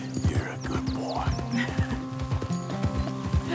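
Horse hooves clopping steadily over ground with occasional snorts in Red Dead Redemption 2, rhythmic and close, set against continuous game ambience with someone talking softly.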